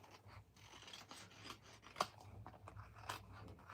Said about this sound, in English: And then we'll get our scissors here, our little paper snippies, and do the world's easiest fussy cut.